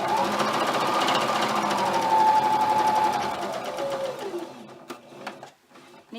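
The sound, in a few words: sewing machine back-stitching around pillow sides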